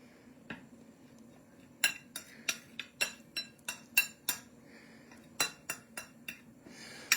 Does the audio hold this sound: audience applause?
no